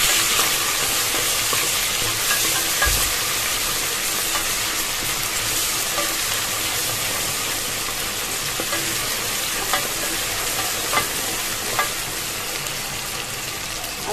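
Ginger garlic paste and onions frying in hot oil, with a steady, loud, close hiss and sizzle throughout as they are stirred, and a few faint scrapes and taps from the utensil.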